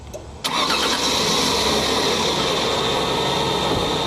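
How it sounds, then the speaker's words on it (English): A car engine cranks and catches abruptly after a jump-start with jumper cables, then settles into a loud, steady idle close by with no talk over it. "She started right up, right away."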